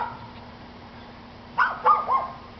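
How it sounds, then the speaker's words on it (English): A dog on a rural homestead gives three quick barks at moderate distance after a quiet stretch with a steady background hum. "What you barking at? You're always barking."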